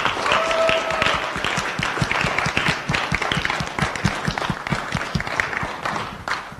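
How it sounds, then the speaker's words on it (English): An audience at a candidates debate gives a round of applause, many distinct hand claps in a lively, uneven rhythm, fairly close and loud, sustained throughout. "how about a round of applause for the candidates"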